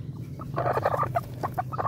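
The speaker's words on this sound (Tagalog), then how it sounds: "Manok at saka po yung mga bibi natin." Chickens and ducks kept together in a Filipino backyard flock give a dense cluster of clucks, squawks and gobble-like calls, fairly close and continuous, with no talking.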